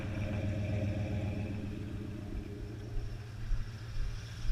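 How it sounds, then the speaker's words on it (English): A truck with a 460 engine and Flowmaster exhaust idles nearby with a low, steady, throaty rumble that grows a little uneven toward the end. "you can hear that killer Flowmaster exhaust has a great sound to it"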